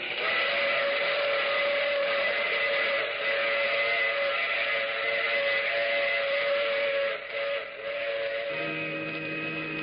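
A steam train's whistle blows long and steady with a rich, wavering tone, dipping briefly near the end before a lower note joins in.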